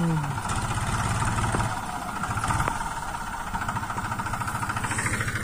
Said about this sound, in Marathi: फायनली ट्रॅक्टर हे शेतात आलेलं आहे.